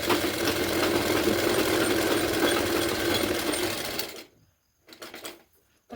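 A sewing machine runs in a steady, continuous whir while stitching a blouse, loud and close for about four seconds before stopping, followed by a few faint clicks and handling sounds.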